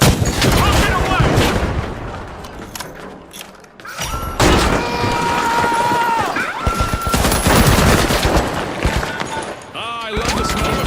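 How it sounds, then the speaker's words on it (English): A rocket launcher fired in The Finals video game amid chaotic arena combat, with heavy thumping blasts, rapid gunfire and explosions in a loud, dense barrage, and voices calling out over the fighting. "Rocket away!"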